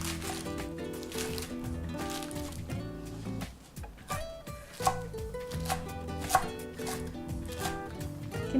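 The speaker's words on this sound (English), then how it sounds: "we're just going to keep chopping because we got a lot of chard" Repeated knife chops through chard against a cutting board, steady and close, running under continuous background music.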